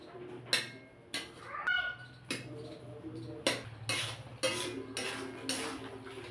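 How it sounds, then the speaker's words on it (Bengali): Potatoes and peas for Bengali ghugni stirred and sautéed in a pan, with a spoon scraping and clanking against the metal in repeated close, irregular strokes about every half second. "ভালো করে একটু কষিয়ে নেব"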